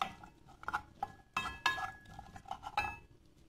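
Onions being sautéed in a couple of spoonfuls of olive oil in a pot for green squash soup: close metallic clinks and scrapes of a spoon against the pot in uneven bursts, with little audible sizzle.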